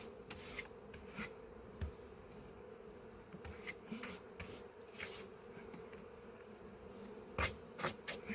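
A constant buzzing of honeybees circles a hive entrance whose floor has just been dropped, the drone sitting close under scattered rubbing and tapping sounds, with no speech.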